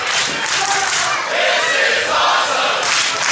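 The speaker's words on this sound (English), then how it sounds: "This capacity crowd fired up for the former champion MV Young." Sold-out wrestling crowd in Mr. Small's Theater roaring and cheering loudly and continuously, a dense wall of voices swelling in waves for a few seconds.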